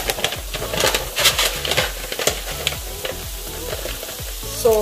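Onion and zucchini sizzle in a frying pan while being stirred, a constant frying hiss broken by regular scraping strokes of the spoon, close and loud with no voices.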